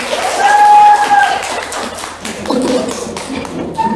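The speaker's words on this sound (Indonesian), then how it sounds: "tepuk tangan semua" A class of students claps their hands together in a burst of loud, fast applause, with voices mixed in under the clapping.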